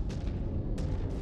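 Heavy weapons fire in the Mechwarrior 5: Clans mech combat game, booming blasts and explosions over a dense rumbling battle, with two sharp bursts standing out near the start and middle.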